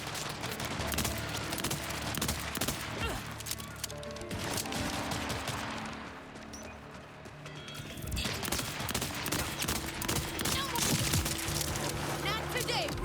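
Rapid gunfire bursts from guns in the video game Borderlands 4, dense and loud through most of the stretch, dipping briefly in the middle before resuming, with voices talking over the game sounds.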